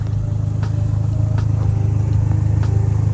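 A Dodge SRT-4 car engine idling smoothly and steadily, a low even rumble with a faint rhythmic pulse, no ticking or knocking, close by and with no talking.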